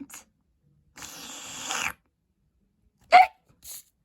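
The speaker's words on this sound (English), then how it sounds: "we've got the hiccups" An animated cartoon character hiccups in short, sharp vocal bursts separated by silence, preceded by a longer rough noisy stretch, close and clear.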